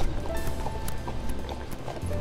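Horse hooves clop at a steady walking pace on firm ground during an outdoor ride, fairly close, with faint background noise.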